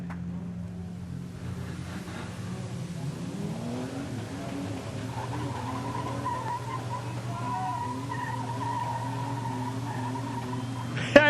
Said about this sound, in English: And a few more donuts on display, this time in turn number 1.